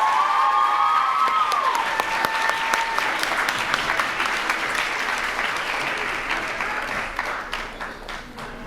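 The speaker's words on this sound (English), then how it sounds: "Let's hear a round of applause for Javy." A large audience applauds an award winner at a teen arts awards ceremony, dense and sustained clapping with a whoop at the start, gradually fading over several seconds.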